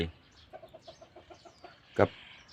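A hen clucks softly in a quick, steady series of low notes, followed by one sharper, louder squawk near the end.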